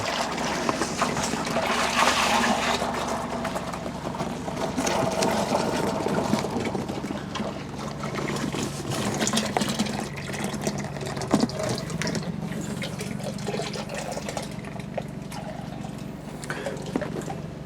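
Wine concentrate pours steadily from a bag in a continuous gurgling stream, close by, with faint background noise and no talking.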